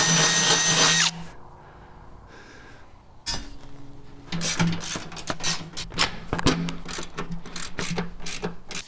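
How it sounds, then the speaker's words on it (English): A power drill drills small holes for a mounting bracket in short, uneven bursts, starting and stopping repeatedly, with clicks and mechanical rattling between runs, close and fairly loud. "just needed to drill a couple of small holes for the mounting bracket"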